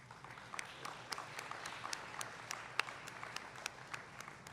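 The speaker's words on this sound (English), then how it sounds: "please help me give your parents and loved ones a round of applause" Guests at a high school senior athletic banquet applaud for parents, a moderate clapping wash with distinct louder claps standing out at a fairly regular pace, somewhat distant in the room.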